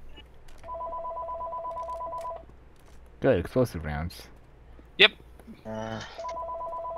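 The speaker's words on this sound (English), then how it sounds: "And there's a frickin' phone. Ring, ring, hello?" A telephone rings in Left 4 Dead 2, giving steady electronic ring bursts that repeat, with a pause in the middle, while players talk over the gaps.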